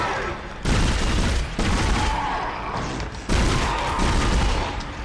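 Rapid bursts of gunfire from a weapon in the survival horror game Dead Space, loud and sustained in several long stretches broken by brief pauses, with a voice talking faintly underneath.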